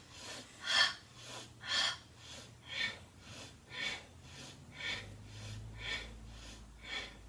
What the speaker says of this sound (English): So you inhale, exhale.